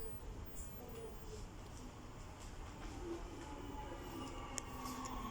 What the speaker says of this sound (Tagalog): Ayan na, dumating na yung isang tren doon sa kabila.